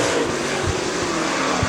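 A super late model race car at Dixie Speedway roars loudly and steadily as it comes off a corner, a dense engine drone filling the whole short stretch with no voices.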